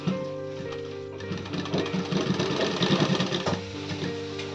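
A sewing machine runs a single-stitch seam on a kaftan nightie, its steady mechanical whir swelling in the middle and easing near the end, with a faint tonal hum underneath.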